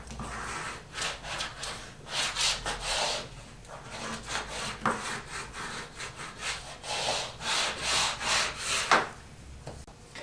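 A bone folder is pressed and rubbed along paper at a book hinge, making a series of soft, close, rhythmic scraping and rubbing strokes that swell and fade irregularly.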